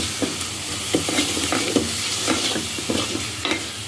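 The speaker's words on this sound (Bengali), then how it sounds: "এখন সবগুলো একসাথে মিশিয়ে নিব।" Beef and chana dal being stirred together in a hot pan, a loud close sizzle with repeated scraping strokes of a spoon in an uneven rhythm.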